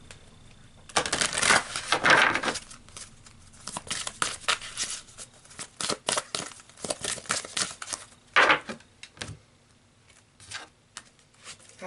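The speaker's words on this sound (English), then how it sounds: "So let's pull some more cards because I like this" Tarot cards being shuffled and pulled from a deck, with close, dry papery riffles and slaps in irregular bursts, loudest near the start and again briefly later, with no talk.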